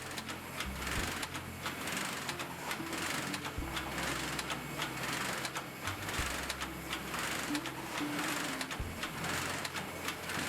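An egg loading machine in a farm packing line lifts eggs with suction cups onto a conveyor belt, giving a steady, dense mechanical clatter with a low rhythmic hum that shifts every few seconds, constant and fairly close.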